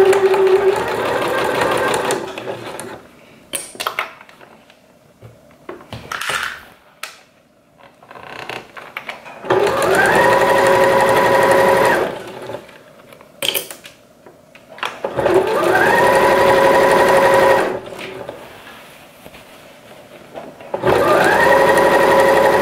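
A sewing machine stitches fabric for a coat in several loud, fast-whirring runs, separated by quieter pauses with small clicks and handling noises.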